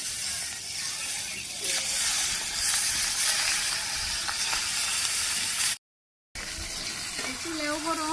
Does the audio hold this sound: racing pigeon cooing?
no